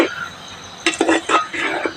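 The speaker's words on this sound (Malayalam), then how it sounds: "നമുക്ക് വെള്ളമായിട്ടൊന്ന് ഇളക്കാം" Red onions stirred in a cooking pot: a few short scraping, clattering bursts of a utensil against the pot, loud and close, with faint sizzling between them.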